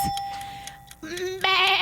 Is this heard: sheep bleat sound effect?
yes